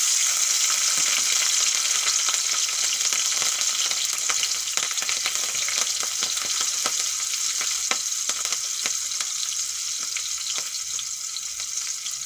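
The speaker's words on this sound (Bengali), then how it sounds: "এখন দিয়ে দেব ফোড়নে আমি কালো জিরে আর চেরা কাঁচা লঙ্কা দিয়ে দেবো তেলের উপরে" Black cumin seeds and slit green chillies fry in hot oil in a wok for an egg curry, a loud continuous hiss and crackle with scattered pops, close and steady throughout.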